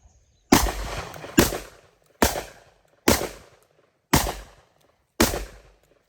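Six loud, sharp shotgun blasts from a Tigris XR12 AR10-style shotgun, fired in an uneven sequence over about five seconds, each crack followed by a short decaying echo, with no talking between shots.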